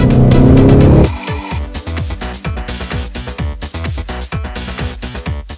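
An Audi RS7 engine on a winding, twisty road: a loud steady rev for about a second, then a rapid run of sharp gear-change bursts and pulsing engine notes, close and with no talk.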